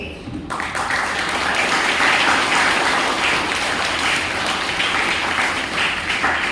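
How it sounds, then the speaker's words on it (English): An audience at an Interact club school program bursts into sustained applause as a guest takes the stage, a loud, dense wash of clapping that holds steady for several seconds after a brief quiet start. "Let us give a warm round of applause"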